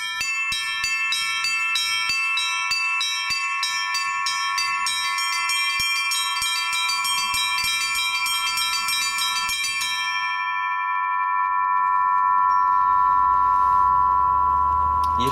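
Church bells cast by the Litex foundry in Moscow and the Shuvalov foundry in Tutaev are rung in rapid, rhythmic peals with bright, overlapping tones. The strikes stop after about ten seconds, leaving a long resonant hum that slowly fades.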